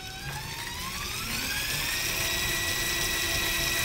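Electric drivetrain motor of an Electrathon vehicle runs at full throttle, a steady high-pitched whine that rises in pitch and holds loud and close, with no talking.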